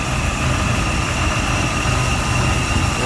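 A car engine idles at low RPM and runs rough, giving a loud, steady, close rumble with a constant hum and no talk.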